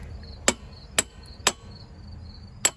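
A hammer strikes a bolt in the rear wheel hub of a 1983 Honda four times, sharp metallic knocks in a steady half-second rhythm with a longer gap before the last, close and alone.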